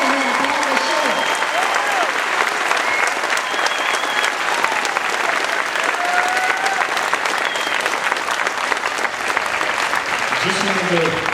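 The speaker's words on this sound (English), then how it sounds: "let's show them a round of applause from Hancock" A crowd applauding warmly and steadily at a high school Veterans Day program, dense clapping that holds for several seconds, with a few voices and cheers mixed in.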